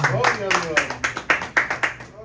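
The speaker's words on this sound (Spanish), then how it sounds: "Denle un aplauso al Señor" A church congregation claps in a quick, even rhythm of about a dozen sharp claps, loud and near, fading out at the end.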